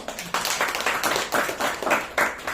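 A small audience claps its hands in short, uneven bursts, the slaps close and distinct rather than a blended roar, lasting only a couple of seconds.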